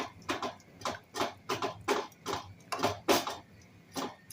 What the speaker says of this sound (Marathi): थोडं असं पळीने मॅश करून घ्यायचं की पळीने दाबून घ्यायचा व्यवस्थित